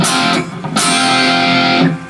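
Heavy distorted electric guitar strums a chord, chokes briefly, then hits a loud chord that rings out and fades, played alone and close.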